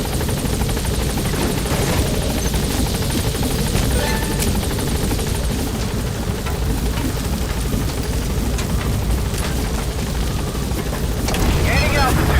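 The Pequod helicopter from Metal Gear Solid V takes off with a loud, continuous rotor roar and heavy thumping that holds steady and close throughout, with faint voices under the din.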